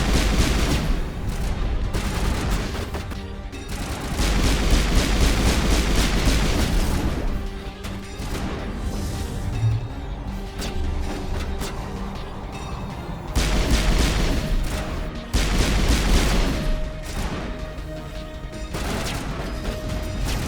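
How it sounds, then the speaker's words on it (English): Heavy combat gunfire in the Mass Effect video game: continuous rapid weapon fire mixed with booms and crashes, loud throughout with a few brief lulls, and no voices over it. "Allie, do not open yourself to that kind of fire."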